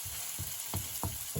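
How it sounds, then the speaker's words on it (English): Mushrooms sizzling in garlic butter in a pan over high heat, a dense steady hiss with soft regular bursts of popping about every third of a second, close and continuous, no voices. "So keeping it nice and tight here so my mushrooms get to sizzle as well as to get some color."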